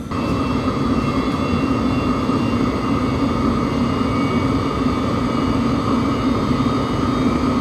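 Webasto Thermo Top Evo diesel coolant heater on a 1993 Dodge W250 with a 12-valve Cummins runs with a steady, even droning hum, close and continuous, with no talking.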